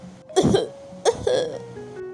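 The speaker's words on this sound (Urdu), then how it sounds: "پاس ہی سے کسی کے کھانسنے کی آواز آئی" Two separate cough bursts from a person in a narrated children's moral story, each a short, loud, raspy cough set half a second apart, heard alone without any talking.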